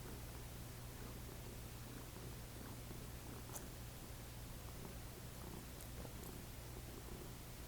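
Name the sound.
cat purring while being petted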